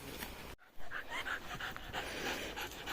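A dog pants steadily and close by at a Finnish hunting dog field trial, with rhythmic quick breaths continuing after a brief dropout.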